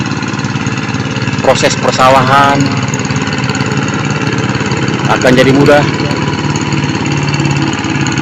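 A hand tractor engine runs steadily in a rice field, a loud, constant low chugging throughout, while someone talks over it.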